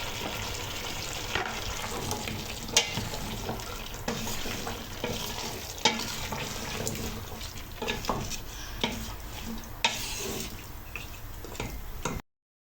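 Carrots and potatoes fry for türlü in a pan, a steady loud sizzle broken by scraping stir strokes and occasional clinks, continuous for the whole stretch with no voices.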